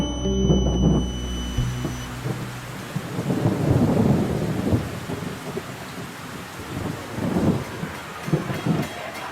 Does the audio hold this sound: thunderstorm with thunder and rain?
yes